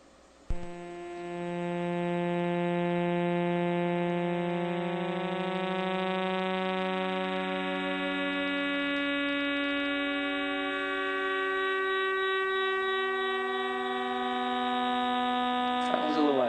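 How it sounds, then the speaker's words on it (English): Recorded radio pulses of the millisecond pulsars in the globular cluster 47 Tucanae, rendered as a steady droning chord of many sustained tones that shift slightly over time, with no talking. "the 16 recorded millisecond pulsars in 47 Tuck are making this sound right now"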